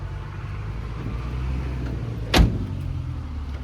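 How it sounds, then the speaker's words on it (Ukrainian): A single solid thump of a 2013 Opel Vivaro van door shutting cuts through a steady low rumble of engine and outdoor background. "Дверка закривається як новесечки, абсолютно."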